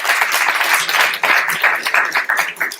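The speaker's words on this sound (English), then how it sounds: "One more round of applause as they take us." An audience applauds at an angel investing and networking event, a dense, steady patter of many hands clapping close by that rises and holds throughout.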